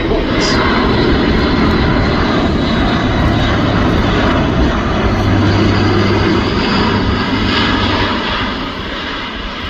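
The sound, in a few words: Airbus A400M military transport aircraft flying over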